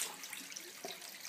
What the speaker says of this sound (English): I'm having to kind of run a little bit of water into the dye